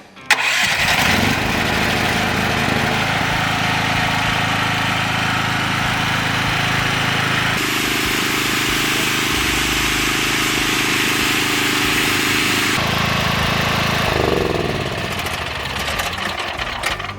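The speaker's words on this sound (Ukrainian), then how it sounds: "Після того, як ми запустили генератор на бензині" A Felisatti GBG-9500EK gasoline generator runs steadily and loudly up close for the whole stretch, its engine drone shifting pitch slightly as the load changes, then easing off near the end.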